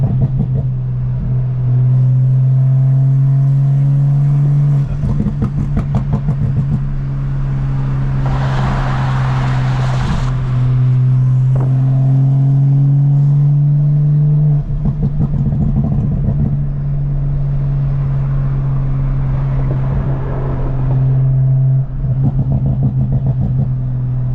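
A tuned BMW M340i driven hard, its engine droning loudly and close with a steady low tone, shifting pitch through gear changes, with rapid crackling pops and a brief hissing turbo whistle.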